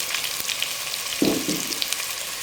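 Onions fry in hot oil for a sardine curry, making a steady bright sizzle with a brief louder crackling burst midway, close and without talk.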